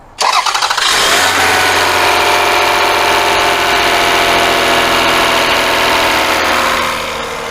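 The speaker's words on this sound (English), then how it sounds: "But that sounds like, almost sounds like lifter noise. Or the rocker arms." A 2004 Toyota Avalon engine cranks and starts, then settles into a loud, close idle with a steady ticking clatter from the lifters or rocker arms.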